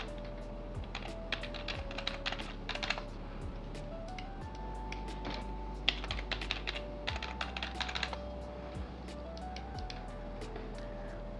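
Password being typed on a computer keyboard, with clusters of light, close key clicks in uneven bursts and short pauses over a quiet room hum.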